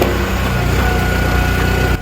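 A Split Force 1320 Ti hydraulic log splitter with 20 tons of force and an automatic conveyor runs its engine in a steady, loud, even drone with a low buzzing throb, unbroken throughout.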